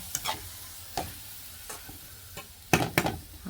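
Cabbage and moong dal being stirred in a pan for a Vidarbha-style dish, with a spoon scraping in irregular bursts and a soft sizzle beneath, two louder scrapes near the end.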